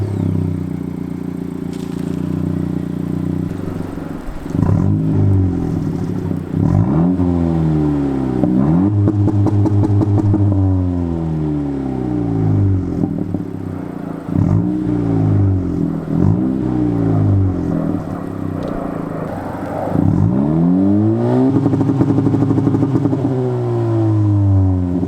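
A 2018 Honda Civic Si fitted with an Invidia R400 exhaust revs repeatedly, each blip rising sharply and falling back to a loud, steady idle, the rhythm of rev-and-drop recurring several times over a long stretch with no talking.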